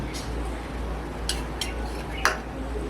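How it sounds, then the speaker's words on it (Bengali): A spoon mixing egg, a little oil and Maggi noodles for a Maggi pizza in a bowl, giving a few light scattered clinks and scrapes over a low background hum. "এবার ভালো করে মিক্স করে নিচ্ছি।"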